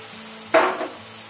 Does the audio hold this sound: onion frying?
yes